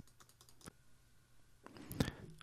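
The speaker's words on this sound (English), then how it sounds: "I'm just going to sit here clicking." Repeated clicking of a computer button: a few soft, sparse clicks early on, then a denser cluster of sharper clicks near the end, quiet and close, with no talking.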